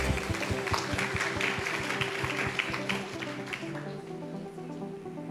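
Audience applause at a live university education ceremony as a guest receives a token of appreciation; a dense, steady clatter of many hands over a low hum, gradually thinning and fading toward the end.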